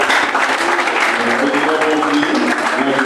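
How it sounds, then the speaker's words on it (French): A church congregation applauds during a talk on church administration, producing a loud, dense, continuous round of clapping with some musical notes or voices faintly mixed in throughout. "Encore sur vos applaudissements."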